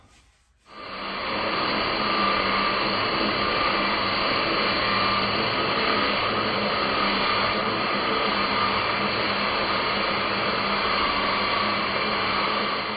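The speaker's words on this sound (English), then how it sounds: "I might get the angle grinder out and see if I can get that looking a bit better." An angle grinder runs steadily on a walnut slab, starting abruptly and holding a loud, continuous whine for the rest of the stretch.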